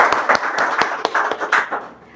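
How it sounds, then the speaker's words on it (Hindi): A quiz show studio audience claps for a contestant who won a gift hamper. Brief, sharp, uneven claps fall several per second for about two seconds, close and fairly loud, then fade out. "एक बार सर के लिए जोरदार तालियां"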